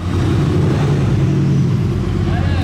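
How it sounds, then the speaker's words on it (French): A Mercedes-AMG GT R with a non-stock exhaust rumbles steadily nearby at Place du Casino in Monaco, a deep, loud, heavy low drone with a voice talking faintly over it. "AMG GTR qui fait un gros bruit."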